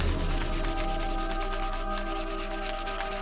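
Sandpaper rubbing back and forth against a forged bronze arm ring, a steady, rhythmic rasping scrape heard up close and fairly loud, with no voices.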